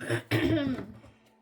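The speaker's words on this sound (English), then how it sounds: "Excuse my throat clearing." A person clears their throat in two short, harsh bursts close to the microphone, the second one longer and trailing off into quiet.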